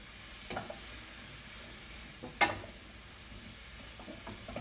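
Garlic and mushrooms sautéing in olive oil in a pan give a faint, steady sizzle, broken by a few sharp utensil clinks or stirring scrapes.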